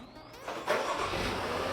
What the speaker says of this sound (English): boom, the car is started